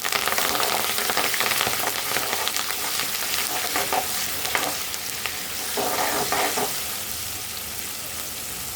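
Curry leaves sizzling in hot oil for a tempering, a steady dense crackle with occasional sharper spits and stirring, no voices.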